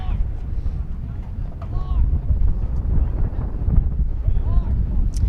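Steady low wind rumble buffets the microphone throughout at a varsity soccer game, with faint distant voices and crowd sounds underneath.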